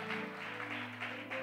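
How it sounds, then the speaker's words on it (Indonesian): A church congregation clapping in worship, rhythmic bursts of applause over sustained music with steady tones, the claps pulsing regularly and fairly close. "Yang percaya tepuk tangan bagi Allah kita"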